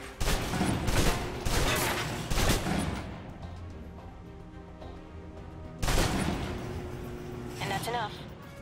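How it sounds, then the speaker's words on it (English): Submachine gun fire in Alpha Protocol, several short loud bursts near the start and another burst later, each fading into a ringing tail, with someone speaking between and over them. "Now for your submachine guns. If you're trapped in close quarters with multiple opponents, the SMGs can help clear the room quickly."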